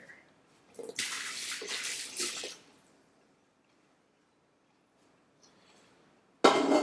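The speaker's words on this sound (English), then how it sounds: "I'm going to lift this out of here. And we just dump the water." Water splashes and pours out of a pot during yogurt making in a short burst lasting about a second and a half, then quiet, followed by another loud splash at the end.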